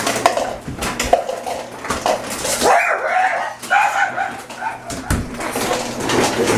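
A dog barks and whimpers in short excited bursts close by, mixed with clattering dishes and cutlery.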